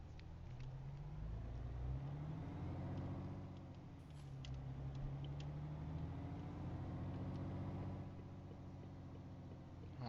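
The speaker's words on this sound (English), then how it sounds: "restart the truck." A truck engine in Euro Truck Simulator 2 runs steadily throughout with a low, continuous rumble and a slight rise in revs partway, with no talking.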